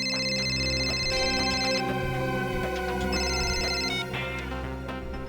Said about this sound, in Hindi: अरे किसका फोन था? काट क्यों दिया? उठाना चाहिए था ना।